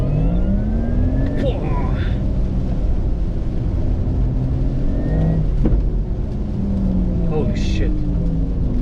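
Porsche Taycan 4S electric car accelerating hard, a steady loud whir and road roar rising with speed from inside the cabin, with a few sharp clicks; a man exclaims in surprise over it.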